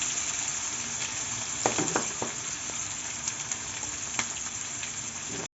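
Ginger, green chilli and garlic frying in a pan of capsicum for chilli paneer, a steady close sizzle throughout with a few sharper spits and stirring clatters, no talking.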